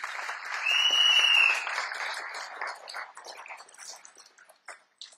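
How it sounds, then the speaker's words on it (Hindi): A crowd claps loudly, swelling then gradually thinning out into scattered final claps. "जोरदार तालियां सभी के लिए"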